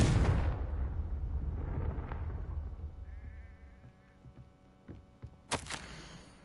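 The Confringo blasting spell in Hogwarts Legacy goes off with a loud, close burst at the start that fades into a fading rumble, followed later by another sharp, bright crack.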